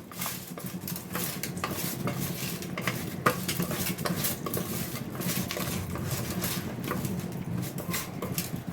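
Raw fish pieces being mixed with salt and turmeric powder for a fish omelette, giving steady close scraping and clinking of a utensil against a metal bowl, with soft wet shuffling throughout and no talk.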